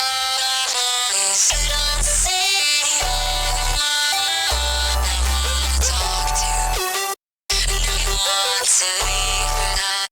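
Loud, heavily distorted electronic music with thick bass and buzzy synths, cutting out briefly for a moment before slamming back in.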